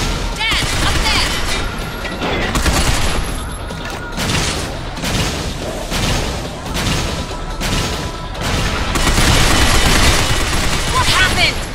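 Gunfire in the video game Binary Domain: dense, continuous bursts of automatic shooting and booming impacts, loud and close, pulsing steadily throughout with voices mixed in.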